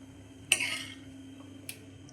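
Milk being stirred in a pot while it thickens on the stove, with one sharp metallic scrape of a spoon against the pot followed by a fainter tap, both close and alone over a low steady hum.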